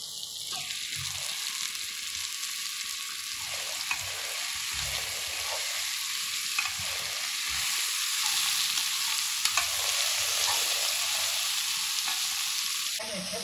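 Beans and peas sizzle steadily in a hot pan for the whole stretch, with a bright continuous fry hiss and repeated scraping stirs rising and falling, close and fairly loud, with no talking.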